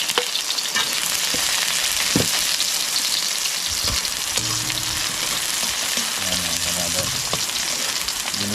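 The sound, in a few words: sautéing onion and garlic in oil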